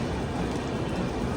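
Netravati Express train departing, a steady close rumble of wheels and coaches rolling past with no distinct beats over the brief moment.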